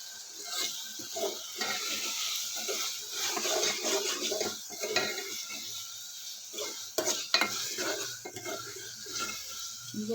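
Tomato and ladyfinger curry being stirred in a pan, a spoon scraping and clanking in repeated strokes over a low simmering bubble, fairly close and uneven in rhythm.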